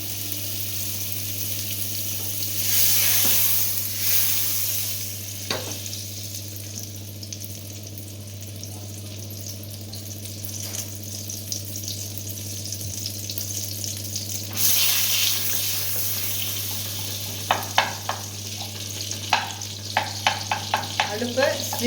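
Butter melts and sizzles in a heavy-bottomed pan, a steady soft frying hiss with light clinks and stirring scrapes, the sizzle brightening toward the end, close and alone without talk.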